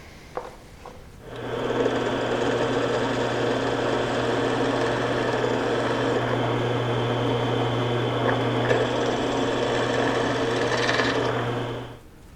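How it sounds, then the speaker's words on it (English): A drill press motor spins up into a steady, droning whine that holds for about ten seconds, then winds down; no talking. "I'm going to have to take that to the drill press"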